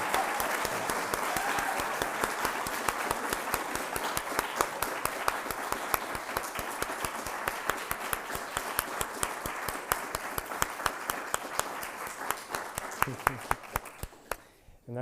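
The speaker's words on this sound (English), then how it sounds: "And so now it's time for applause." Sustained audience applause closing a capstone symposium, a dense, even wash of many hands clapping for about fifteen seconds before thinning out to a few last claps.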